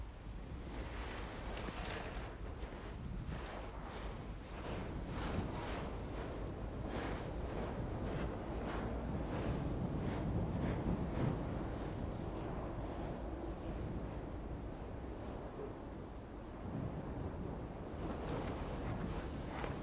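Steady wind blowing across coastal sand dunes in northern France, a continuous broadband rush with gusting swells and a faint surf-like roar, loud and close throughout with no voices.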